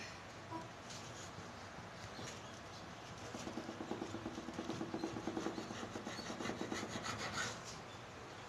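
A knife saws through a tuna salad sandwich with soft, rhythmic rasping strokes that grow more distinct partway through. The sound is close but faint, with no speech over it.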